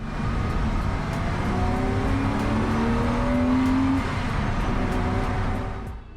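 A Porsche Boxster Cup race car out on track at Brands Hatch during qualifying, heard from inside with a loud, steady engine drone and whine rising and falling through gear changes, continuous and close, with no talk.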